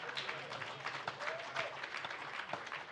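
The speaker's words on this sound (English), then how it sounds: "You can clap for their freedom." A crowd applauding steadily at a Black History Month talk in the Charles H. Wright Museum, a dense wash of many hands clapping at moderate distance, with some voices mixed in.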